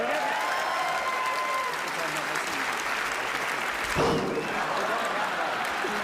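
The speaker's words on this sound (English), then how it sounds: "So a round of applause again for Carmen Lyons." A live audience at a comedy stage show applauds a finalist, many hands clapping in a dense, sustained roar that fills the whole stretch and swells briefly near the end.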